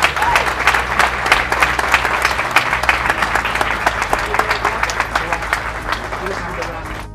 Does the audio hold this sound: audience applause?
yes